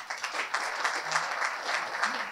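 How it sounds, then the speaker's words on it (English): Audience applause at a Canada–Africa policy panel as a minister and an African Union commissioner take their seats, steady dense clapping throughout with no talk. "Please give a round of applause as they take their seats."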